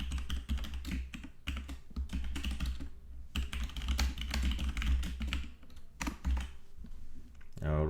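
Rapid keystrokes rattle on a computer keyboard while someone codes an invoice system in Laravel and VueJs, with steady clicking bursts running nearly continuously under some background voice.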